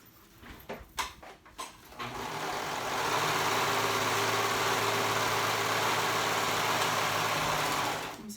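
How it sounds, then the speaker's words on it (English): A sewing machine stitches the sides of a Cape Cod cover-up together, a few clicks and handling knocks before the motor starts and hums in a steady close whir for several seconds. "So I'm gonna sew the sides together."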